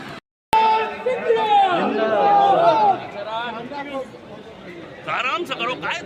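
Party workers chatter as a crowd in a dense babble of overlapping voices. Several nearby voices stand out above the steady hubbub of the gathering.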